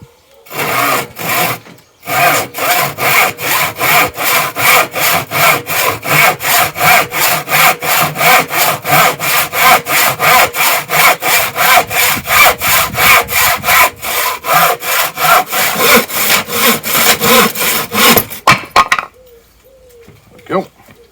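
Hand saw cutting through a length of solid wooden timber, a close, loud run of regular rasping back-and-forth strokes after a brief start, ending as the cut finishes.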